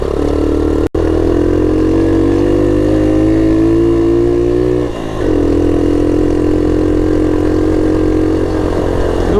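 A 1970 Honda Trail 70 motorcycle rides a rough trail, its small engine droning steadily and loud up close, with a brief dip and re-rise in pitch midway as the throttle changes.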